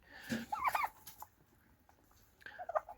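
Backyard poultry calls out in a farmyard: two bursts of squawky clucking a couple of seconds apart, fairly near, with quiet between.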